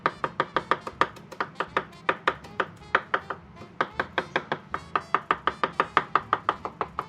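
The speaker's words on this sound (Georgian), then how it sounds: "ქონდარს რაც შეიძლება წვრილად ჭრით" A knife finely chops fresh savory herb on a board in a rapid, even rhythm of about thirty crisp taps, close and clear.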